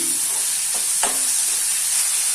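Onions frying in a pan with turmeric and salt, stirred: a steady close hiss of sizzling oil with a couple of soft scraping strokes of the spoon through the pieces.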